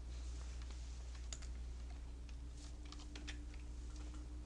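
Computer keyboard keys pressed while entering figures in accounting software, a quick run of light clicks and taps close by over a steady low hum, with no talk.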